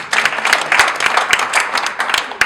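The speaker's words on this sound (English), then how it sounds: "round of applause" Audience at a motor industry members' conference gives a round of applause, brisk close claps from a room of people, loud and continuous, with a few sharper individual claps standing out.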